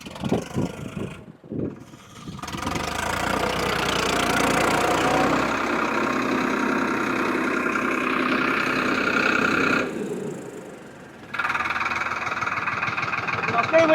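A Farmtrac 60 tractor engine runs loudly and steadily as men warm it with burning newspaper, its dense rumbling drone continuing under their conversation, with a brief dip before it surges again.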